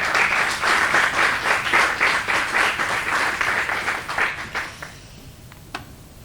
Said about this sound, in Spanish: Por favor, un aplauso para Silvia.